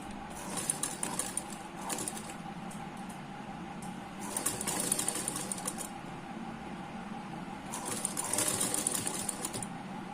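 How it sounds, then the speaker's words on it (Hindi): A sewing machine stitches a katori blouse, a soft rapid mechanical whirr running in bursts with brief pauses between, fairly quiet and close. "इसे सिलाई लगाएंगे।"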